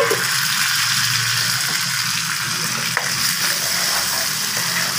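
A tomato, onion and garlic masala for dhaba-style sarson ka saag fries in a pan, giving a loud, continuous close sizzle with one brief tap near the middle. No voices are heard.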